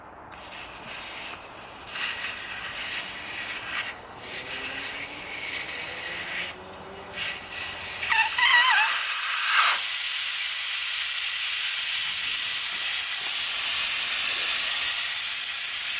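Air hissing out of a car tire's valve stem after the valve core is unscrewed, during a tire pressure sensor replacement: a steady broadband rush rising after some handling noises and continuing strongly to the end, alone without talk.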